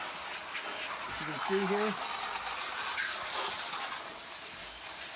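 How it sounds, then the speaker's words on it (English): A garden hose at ordinary household pressure sprays water onto cedar siding, making a steady, loud, broad hiss throughout while a person speaks briefly over it. "This is just garden hose pressure, so it's not going to leave that little fuzzy stuff."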